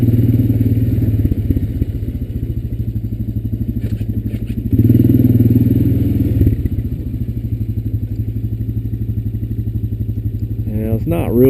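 Honda Recon ES ATV engine droning steadily while riding along an overgrown trail, a low continuous motor hum with occasional thumps and rattles, loudest mid-clip.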